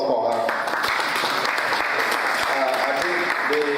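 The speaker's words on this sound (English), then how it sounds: "Please, once again, round of applause for her." An audience at a club meeting applauds the treasurer, steady dense clapping filling the room at close range, with a few voices faintly mixed in.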